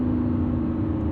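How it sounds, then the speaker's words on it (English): A Lamborghini Revuelto's V12 engine drones steadily for a short moment, a close, constant hum with no talking. "you get to listen to a V12 while you're breaking the sound barrier."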